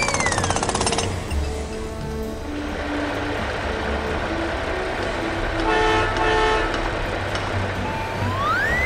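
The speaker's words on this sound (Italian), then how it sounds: "La trivella, che con la sua punta può perforare ovunque." Construction drill rig boring into the ground on a building site, a steady loud pounding rattle with a horn-like toot near the start and a brief tonal whine toward the end.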